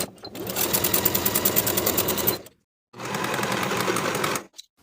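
A sewing machine runs stitching a seam on a denim skirt, a rapid rattling whir in two bursts separated by a short pause, close and loud.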